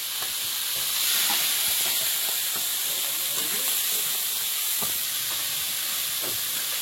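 Prawns frying in a pan in a Bengali home kitchen: a steady close sizzle and hiss with scattered small pops and clinks, and no speech.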